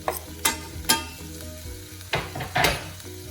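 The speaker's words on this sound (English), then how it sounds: "I'll throw in the garlic" Garlic and adobo sauce hit a hot pan beside cooking shrimp, sizzling loudly up close, with several sharp bursts of crackle and scraping stirs spaced through the short stretch, and no voices.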